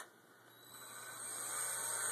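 A power drill drives screws while an Xbox console is being repaired, giving a steady high whine that swells gradually louder over about two seconds, with no voices.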